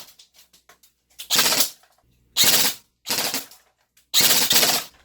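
Full-auto fire from a VFC (Cybergun OEM) SIG MCX electric airsoft rifle: four loud, close, rapid buzzing bursts separated by short pauses, with light mechanical clicks beforehand.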